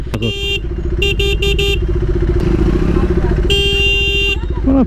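Vehicle horns honk in traffic in several short bursts and one longer blast, loud and close, over a constant rumble of engines and road noise.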